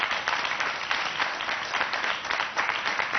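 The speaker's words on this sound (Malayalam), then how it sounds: "എന്നാ കൈയടിച്ചു കൊടുക്കുക നല്ല ആളാന്ന് പറയുന്നത്" An audience claps in a dense, even burst of applause, loud and close, lasting only a few seconds without voices over it.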